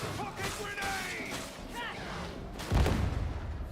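A pocket grenade detonating in Warhammer 40,000: Darktide, a single heavy low boom near the end following chattering voices and game noise.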